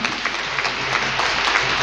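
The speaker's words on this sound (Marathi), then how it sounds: "सर्वांनी जोरात टाळ्या वाजूया आपण." Audience at a community jayanti celebration in a Pune colony clapping loudly, a dense continuous burst of applause with no talk over it.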